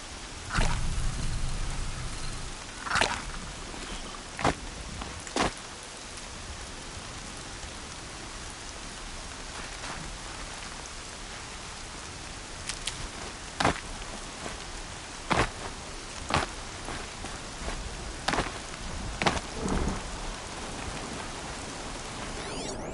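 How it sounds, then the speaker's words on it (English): Heavy rain pours steadily across the scene in the video game Horizon Zero Dawn, a dense broadband hiss with scattered sharp drip or splash transients, with no speech. "Raining like it's trying to wash everything away."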